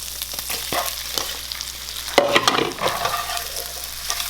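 Black sesame pasta sizzles and fries in a pan while being stirred, a steady close crackle with scraping stir strokes and a louder burst midway.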